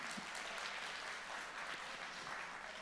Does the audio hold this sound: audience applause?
yes